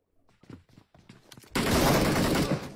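Gunfire in the mobile game PUBG Mobile: after a second and a half of faint scattered clicks and noises, a loud, sustained burst of rapid shots fills the rest of the moment, then tapers slightly.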